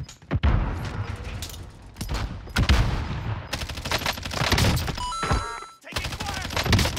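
Bursts of gunfire ring out in a Warzone battle royale match, loud sustained volleys broken by short pauses, with a muffled thump near the middle and game effects layered throughout.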